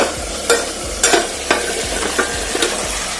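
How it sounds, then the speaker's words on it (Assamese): Pork dry fry stirred in a pan over a high gas flame: a steady loud sizzle with rhythmic scraping strokes of the spatula about every half second, close up and with no talk. "এইখিনি লৰাই দিম।"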